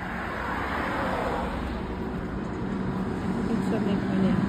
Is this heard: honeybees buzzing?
no